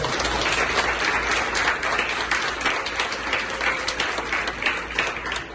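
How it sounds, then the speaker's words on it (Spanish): A church congregation at a Bible class gives a strong round of applause to the Lord, sustained dense clapping filling the room at an even level. "Yo creo que eso merece un fuerte aplauso al Señor"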